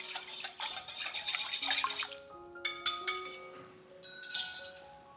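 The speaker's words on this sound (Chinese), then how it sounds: "当红糖水放凉到30度左右的时候，倒入酵母，搅拌均匀。" A spoon stirs yeast into cooled brown sugar water in a glass bowl, bright repeated clinks and ringing taps against the glass, close and fairly quiet, no talking.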